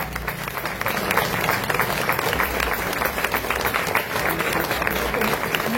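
A crowd at a felicitation ceremony in Ambajogai keeps up continuous applause, dense rapid clapping with some crowd noise and voices mixed in.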